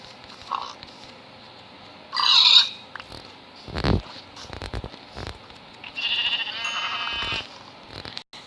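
Blocky sheep in Minecraft give a few short bleats over quiet game ambience, with footsteps and other game sounds scattered between them.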